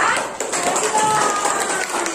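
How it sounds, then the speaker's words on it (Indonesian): Students in a classroom clap for a group at the end of its turn, quick, uneven applause close to the listener, mixed with voices and a few sharp taps. "tepuk tangan untuk kelompok hari ini"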